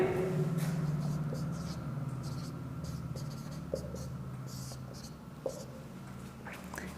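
Pen scratching across paper as a Class 10 maths question is written out, continuous close strokes with brief pauses, no voices.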